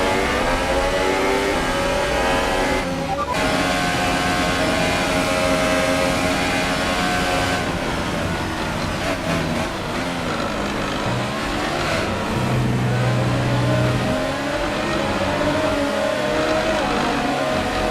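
A Formula 1 car's engine hums and revs steadily in the F1 2018 racing game at the Azerbaijan Grand Prix. It sounds constant and close, with slight shifts in pitch and no talk over it.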